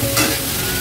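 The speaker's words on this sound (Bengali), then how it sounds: "সবজিটা একটু ভেজে নেব" Cabbage, potato and carrot being stir-fried in a pan for a home-cooked meal, giving a steady, close sizzle with brief scraping as the vegetables are tossed, with no talking.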